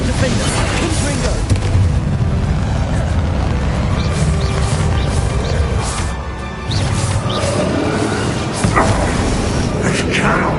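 Spell blasts such as Bombarda and Confringo go off in a Hogwarts Legacy battle against Ranrock. Loud booming explosions and bursts pile up continuously, with shouted voices over the din.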